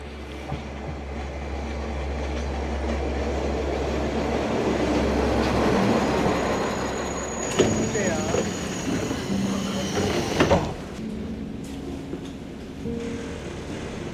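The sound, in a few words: train arriving at station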